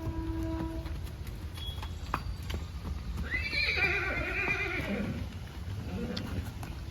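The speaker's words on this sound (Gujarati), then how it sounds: "બીજી ઘોડીની લાઈન આવી ગયા શ્વેતભાઈ માધુરીની." Mares neighing with a drawn-out whinny in the middle, over steady hoof clip-clops and outdoor background noise.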